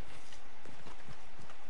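Horse hooves clip-clop at a steady trot in the Red Dead Redemption video game, loud and continuous against a dense noisy background with no talk over it.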